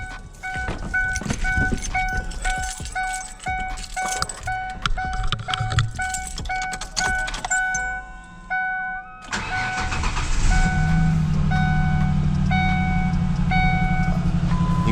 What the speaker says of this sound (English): We are misfiring. We are misfiring really bad